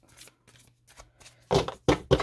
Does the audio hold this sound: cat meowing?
no